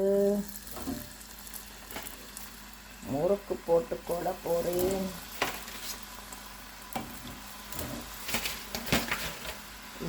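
Murukku made from chana dal and raw rice dough bubbling in hot oil, a steady sizzle with bursts of crackling and stirring clinks, mid-distance, while someone talks over it.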